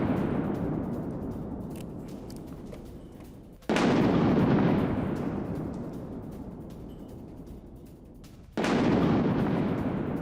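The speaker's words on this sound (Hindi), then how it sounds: "रूस में यूक्रेन की भयंकर बमबारी" Heavy bombardment in a war zone, with two massive booming explosions roughly five seconds apart over a constant roar. Each blast swells suddenly and then rumbles and decays slowly, loud and fairly near.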